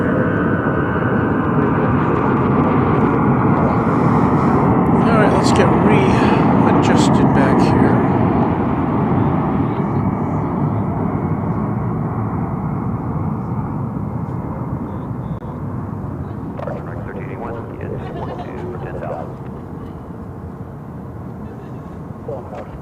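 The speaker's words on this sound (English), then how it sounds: "There you have the landing of American Flight" An American Airlines airliner landing at DFW Airport, its engine roar loud and broad at first, then gradually easing as it rolls out, with people talking over it in places.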